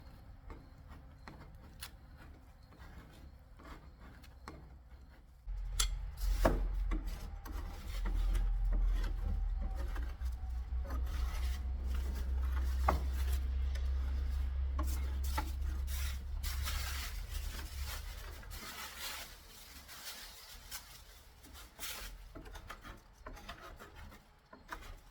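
A metal scraper drags stripper and old finish off wooden Blueprint cabinets in steady, rasping strokes, close and fairly loud through the middle stretch, then quieter scraping and handling noises toward the end.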